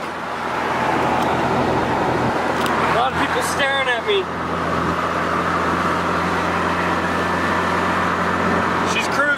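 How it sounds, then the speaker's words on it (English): From inside a moving Porsche on the highway, a continuous roar of road and traffic noise surrounds the car, with passing vehicles and a few brief squeaks. A person talks over it. "It's a lot of traffic."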